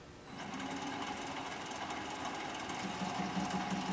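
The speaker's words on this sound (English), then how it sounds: "I'm just going to turn the piece on here" A wood lathe starts up and spins a vase blank, a steady close motor hum with a faint rhythmic buzz rising after a brief quiet start and continuing without pause.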